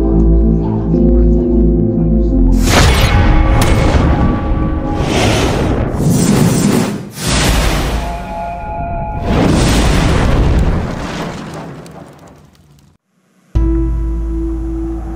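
Explosions in a drama episode, a series of loud, booming blasts with rumbling tails and bursts of debris noise, ending in a brief silence before a tonal music sting.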